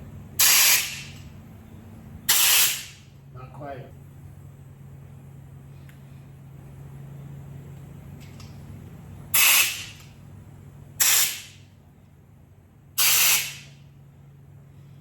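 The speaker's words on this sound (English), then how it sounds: "You're gonna spray it from 10 inches away." Five short bursts from a paint spray gun, each a loud hiss lasting about a second, separated by pauses with a low hum and a brief spoken remark.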